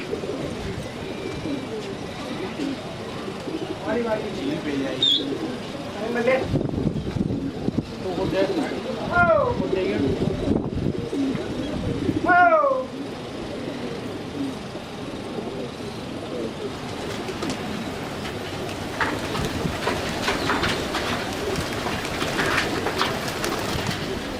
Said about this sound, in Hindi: इनके फाइनली कबूतर आ गए